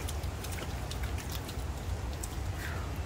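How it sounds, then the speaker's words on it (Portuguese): Heavy rain pours steadily over a vegetable garden, a dense constant hiss of drops with scattered sharper patters on surfaces, close and loud throughout with no voices. "E agora de tarde choveu mais ainda."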